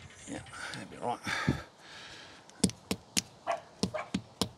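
A dog barks in a rapid run of sharp, fairly distant yaps, about seven in quick succession, following some muffled talk and clattering in the background.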